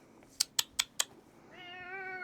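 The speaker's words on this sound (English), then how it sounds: "And my cat has arrived." A pet cat gives a drawn-out, rising meow close by, preceded by four sharp, evenly spaced knocks or taps; no one speaks over it.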